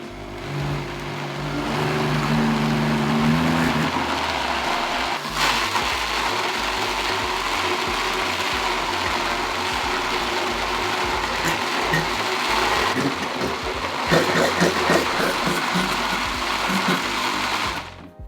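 A blender whirs steadily, blending a cheesecake smoothie with lime juice; the continuous motor drone is loud and close, with a brief surge near the end and no talk over it.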